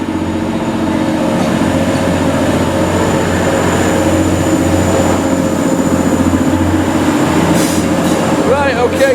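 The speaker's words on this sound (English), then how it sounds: "This train is going to head off to Huddersfield." A train pulls out of a station toward Huddersfield, a steady loud rumble of engine and rolling wheels with brief squeals near the end, heard up close.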